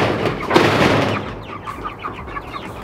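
Chickens on pasture cluck in a close, scattered series of short calls, following a brief louder burst of rustling noise at the start.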